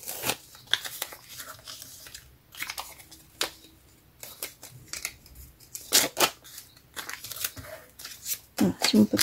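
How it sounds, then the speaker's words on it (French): Scissors snip through paper labels for a junk journal in a string of short, crisp cuts with irregular pauses, and soft paper rustles sit between the snips. "on va découper nos petites étiquettes"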